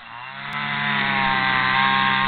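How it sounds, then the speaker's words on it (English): A gas string trimmer cuts grass in a small yard corner being cleared for a pool, its engine buzzing loud and close and rising steadily in pitch as it revs, with no one talking. "So he's busy weed whacking it because it's just a little corner needed."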